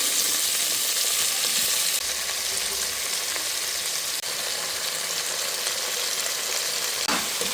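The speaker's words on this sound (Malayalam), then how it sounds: "നന്നായിട്ടൊന്ന് മിക്സ് ചെയ്യാം" A vegetable curry sizzles steadily in a pan as it is stirred, with a constant frying hiss and a few faint scrapes and knocks against the metal.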